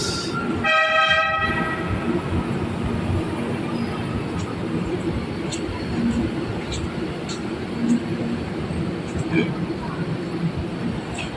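An MRT metro train in Pasay rumbles loudly into a station, its horn blaring briefly at the start, followed by continuous rolling rail noise and occasional clicks.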